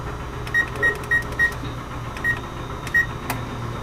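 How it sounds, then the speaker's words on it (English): A kitchen oven's control panel beeps as it is set to preheat to 375, giving a run of short, evenly spaced electronic tones, then two more after a pause, over a steady low hum. "I'm going to preheat the oven to 375."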